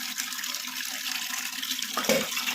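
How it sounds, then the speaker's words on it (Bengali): Hilsa fish are rinsed under running tap water, a steady close rush of water with splashing and a louder gush toward the end. "আগে মাছগুলোকে ধুয়ে ফেলি"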